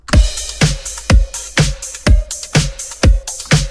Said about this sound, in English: And all together, the drums sound like this.